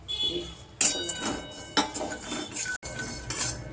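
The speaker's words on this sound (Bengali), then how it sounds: "আমার কাছে ভাজা ভাজা চিনে বাদাম ছিল সেটাও দিয়ে নেড়ে নিচ্ছি" Sesame seeds and peanuts stirred in a wok, with a handful of scraping, rattling strokes of a utensil against the metal in quick, irregular bursts.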